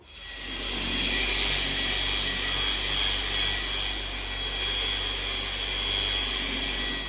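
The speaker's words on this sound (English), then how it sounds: "done some passes with the polisher" Machine polisher buffing a car panel with Meguiar's polish, a loud, steady whirring hum with a broad rushing hiss that runs continuously with slight swells in intensity.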